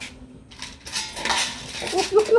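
Metal clatter of a dog biting and knocking about a metal plate, with sharp clinks growing louder toward the end, over faint background voices.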